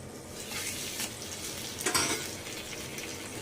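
Bread frying in a pan, sizzling steadily with a brief scrape and clatter as a slice is turned partway through, close and fairly quiet.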